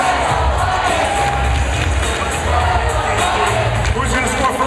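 A large crowd cheers and shouts loudly and continuously for the Blue Lions at a FIRST Robotics Competition Logo Motion elimination match, a dense roar with overlapping voices and yells throughout.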